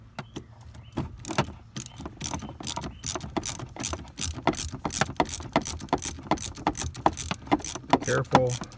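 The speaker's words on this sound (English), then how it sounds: "we're going to take a T30 and we're going to loosen this bolt" A T30 Torx bit loosens a bolt on the shift lever of a first-generation Toyota Tundra, giving a rapid run of close ratcheting clicks and metallic tool rattles that build in density and loudness.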